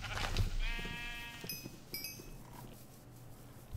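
Video game sheep bleating, heard as a faint wavering bleat followed by light clinking game sounds, with no talk.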